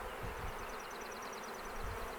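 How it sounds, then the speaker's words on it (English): A swarm of honey bees buzzing steadily around a hive after a swarm was caught in a box, a continuous droning hum of many wings close by, unbroken for the whole stretch with no talk. "All the bees you flying around"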